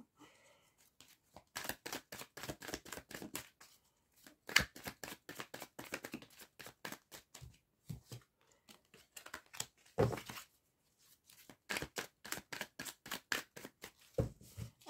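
Oracle cards are shuffled close up in quick bursts of rapid riffling flicks, separated by short pauses, soft and crisp with no talking.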